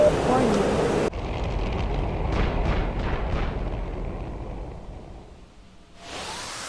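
An anti-runway rocket bomb explodes in a jet combat simulation, a loud broad roar rolling into several rumbling blasts and wind-like whooshes that slowly fade before a fresh burst of rushing noise.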